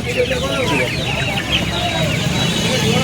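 A crowd of chickens at a hen market during the rainy season clucks and squawks nonstop, loud and close, with a low murmur of human voices mixed in.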